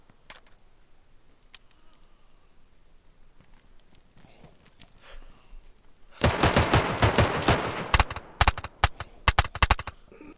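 Mosin rifle gunshots in DayZ: after a quiet stretch, a dense burst of sharp, loud cracks, then several more spaced shots ringing out close by.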